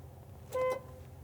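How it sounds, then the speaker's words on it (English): A single short honk from a truck's city horn during a pre-trip inspection, a brief steady tone against a low background rumble. "Horns, my city horn"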